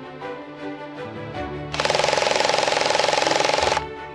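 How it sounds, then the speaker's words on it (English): A power screwdriver drives a bolt, giving a loud, close, buzzing rattle that runs steadily for about two seconds after some quieter handling sounds. "Screwdriver!"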